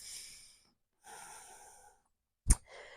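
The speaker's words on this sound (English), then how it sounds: "Big breath." During a yoga spinal twist, two long, soft breaths are separated by silence, then a sharp, close exhale bursts out like a snort, followed by a fainter breath.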